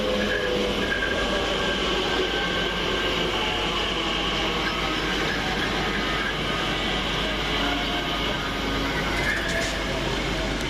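A TfL Rail class 345 electric passenger train, unit 345042, on the London Liverpool Street to Shenfield service pulls into Romford station, a steady close rumble of wheels and motors with faint rail squeal throughout.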